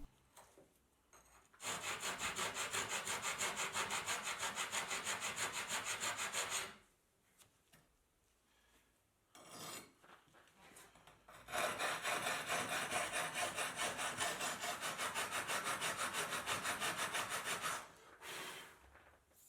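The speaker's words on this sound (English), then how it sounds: "filing the edge is a quick and easy way of adjusting the cut and making small alterations without any chance of breaking the tile" An edge of cut tile is filed in long, steady rasping strokes, close and fairly quiet, with two sustained bouts separated by a pause and lighter scraping, no speech.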